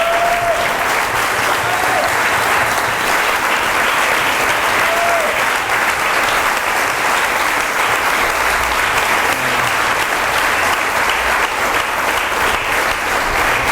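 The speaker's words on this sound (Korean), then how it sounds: "Vamos a darle un aplauso" A church congregation in Limón, Costa Rica applauds to give glory to God, with loud, sustained clapping that fills the room steadily throughout.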